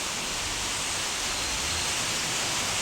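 Heavy rain pours down in a steady, dense hiss, continuous and even throughout with no voices over it.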